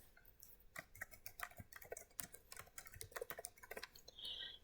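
Quick, light keystrokes on a computer keyboard in an irregular patter, close but quiet, with one short key-hold near the end and no voices.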